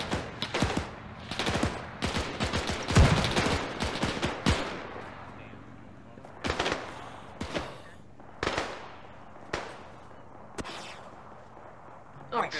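ArmA 3 gunfire in a historical Operation Husky campaign battle: bursts of loud rifle and machine-gun shots early, then spaced single cracks echoing across the field, with players talking between shots.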